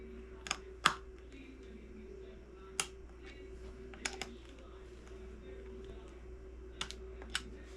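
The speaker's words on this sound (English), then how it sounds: "we gotta torque these nuts to 5 Newton meters" A torque wrench clicks as it tightens battery terminal nuts, giving sparse, sharp, quiet ticks, some single and some in quick pairs, over a faint steady hum.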